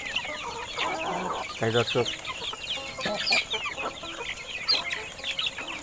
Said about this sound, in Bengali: মিশরীয় ফার্ম মুরগির বাচ্চা আমার এখানে মিশরি ফার্ম মুরগির বাচ্চা টাইগার মুরগির বাচ্চা বিক্রি করা হয়